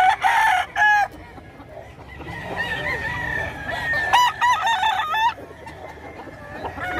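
Fighting roosters crowing at a gamecock market in Bocaue, Bulacan, with several loud overlapping calls from more than one bird and some clucking between them against a busy background.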